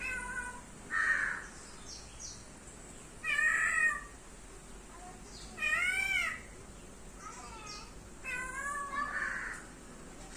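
A cat meows four or five times in separate, drawn-out cries spaced a couple of seconds apart, fairly close against a quiet outdoor background.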